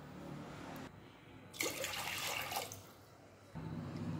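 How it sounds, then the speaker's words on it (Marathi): Water is poured into a pressure cooker holding cracked peanut pods: a close, rushing splash swells for about two seconds, then drops back to quiet kitchen background, with no voices. "कुकरमध्ये पाणी घालायचं आहे।"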